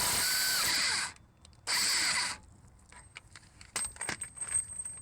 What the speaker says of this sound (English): Then I'm going to get the axle nut removed.